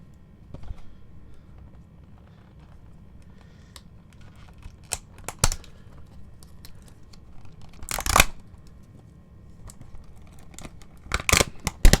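Cardboard and plastic packaging of a DiecastMasters CAT construction model being opened by hand, close, sparse crinkles, taps and tearing rustles in short bursts over a quiet background, with louder ripping near the end.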